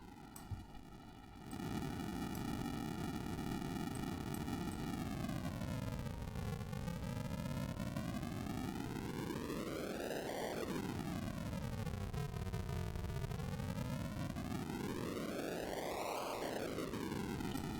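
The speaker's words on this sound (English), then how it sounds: "now we should be able to control the parameter of the white noise" White noise from a generator program written in C fills the clip as a loud, constant hiss after a brief quieter start, its tone sweeping slowly down and up in broad filtered arcs as a parameter is adjusted.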